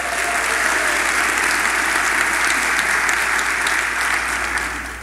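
Sustained, dense audience applause fills a theater at a comedy tribute show, steady and loud throughout before easing slightly at the end.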